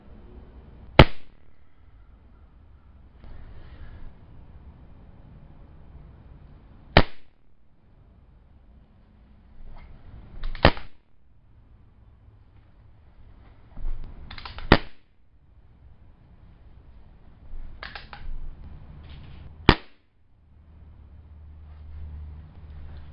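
Crosman 2240 CO2 pellet pistol fired over a chronograph, several sharp, close, snappy cracks spaced a few seconds apart, with faint handling clicks and rustles between shots.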